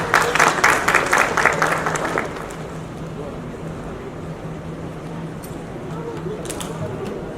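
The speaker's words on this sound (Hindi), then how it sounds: "जोरदार तालियों के साथ स्वागत." Audience at an awards event for doctors, nurses and drivers claps loudly for about two seconds, then the applause fades into a low hall murmur and background hum.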